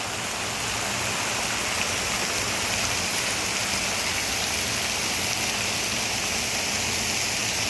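A waterfall in a waterway park roars steadily and evenly, a dense broad rush of falling water with no breaks and no voices.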